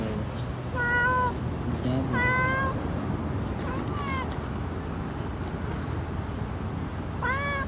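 A cat meows repeatedly at a beach in Tignoan, Real, Quezon, giving several clear calls in short bursts over a steady wash of wind and surf noise.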